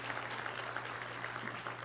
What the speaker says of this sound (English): Can we give her a big round of applause?